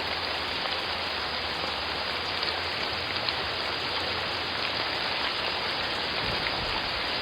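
Steady, dense rain falls continuously, a constant hiss of drops with no breaks, fairly close and even in loudness throughout.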